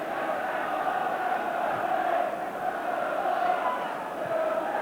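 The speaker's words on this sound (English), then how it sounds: "The crowd turned up the volume." Football stadium crowd at an FA Cup semi-final between Liverpool and Nottingham Forest roars in a steady, sustained wall of cheering and chanting, heard from a distance with no break.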